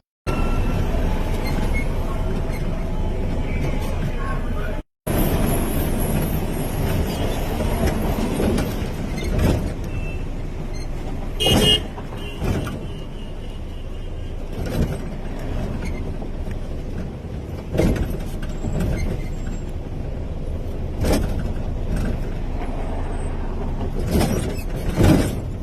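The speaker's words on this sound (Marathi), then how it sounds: "लोणावळ्याच्या घाटामध्ये ज्यावेळेस आपण मुंबईवरून पुण्याकडे येतो त्यावेळेस घाटामध्ये एवढं ट्रॅफिक आहे" Heavy traffic fills the Lonavala ghat on the Mumbai–Pune road with a continuous rumble of engines. Vehicles repeatedly whoosh past close by, and there is a brief dropout early on.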